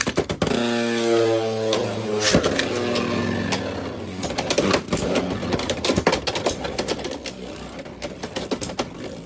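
Beyblade X spinning tops launched into a stadium, a whirring launcher rip followed by a dense clatter of rapid metallic clicks and collisions as the tops battle, loud and close with no talk.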